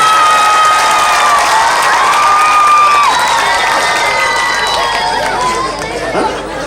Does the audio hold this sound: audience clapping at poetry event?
yes